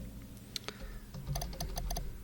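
Typing commands on a computer keyboard for a graphic text adventure game, a close run of light, irregular key clicks that quickens into a rapid patter toward the end.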